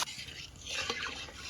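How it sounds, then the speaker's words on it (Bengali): Water splashing into spice paste for a fish curry in a pan, a short hissing, liquid pour that is faint and steady with a brief splash. "এখন হারা মৌ দিয়ে দেবো।"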